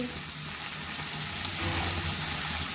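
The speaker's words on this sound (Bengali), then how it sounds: "ভালো করে ভেজিটেবিলটা এবার তেলের মধ্যে নেড়ে ছেড়ে নেব" Vegetables frying in hot oil while being stirred for a Bengali vegetable chop, a steady dense sizzle with soft stirring scrapes, fairly close and continuous with no talk.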